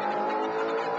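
Holden VL Commodore race car at Bathurst, its engine droning loud and steady with a sustained high-pitched tone as it runs downhill, the note holding even through a short downshift.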